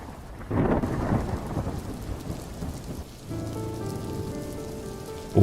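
A heavy thunderstorm in an animated cartoon: dense, loud rain pours throughout, and rolling thunder swells near the start and again just before the end.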